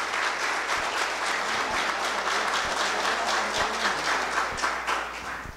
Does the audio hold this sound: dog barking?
no